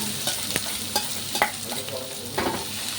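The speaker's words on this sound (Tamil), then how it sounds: "பேன் ஹீட் ஆகிடுச்சு. இப்போ நான் ஆனியன் ஆட் பண்ணுறேன்." Chopped onions sizzling and frying in a hot pan for kothu parotta, a steady close crackle with occasional stirring scrapes, no voices.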